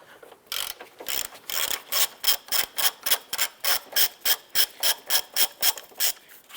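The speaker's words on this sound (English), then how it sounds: "You're going to use a 15 millimeter deep socket to go ahead and remove these 3 nuts." A hand ratchet with a 15 mm deep socket clicks rapidly while backing off a car's strut nuts, producing an evenly paced run of sharp, close pawl clicks in short back-and-forth strokes, with no talking.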